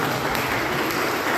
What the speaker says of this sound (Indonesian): harus lebih keras tepuk tangannya ya